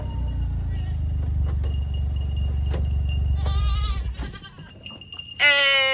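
Goats on a farm bleat in wavering calls toward the end, preceded by a loud low rumbling hum and scattered clatter.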